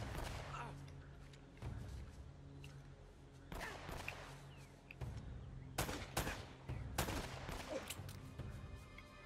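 Gunfire in the video game Uncharted: Drake's Fortune, a series of sharp shots and bursts fired at irregular intervals over a low background rumble.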